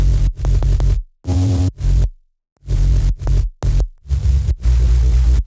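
A synthesized drum and bass bass, processed with OTT compression, sidechain pumping and EQ, plays loud, dirty, rhythmic stabs that cut off sharply into short gaps, heard alone.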